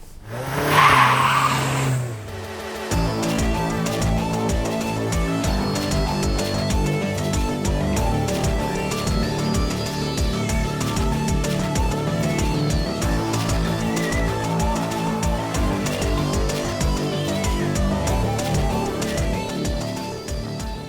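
CUPRA Leon hot hatchback, front-wheel drive with 300 hp, driven hard, its engine revving loudly with rising and falling pitch and crisp gear changes, close and continuous after a brief opening burst.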